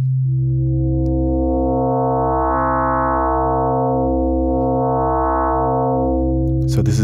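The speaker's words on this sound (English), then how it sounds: "I'll actually set this to a sine wave. I play a note" A sustained sine-wave note from the ES-2 software synthesizer, pure and hum-like, swelling slightly twice in brightness before cutting off with a click.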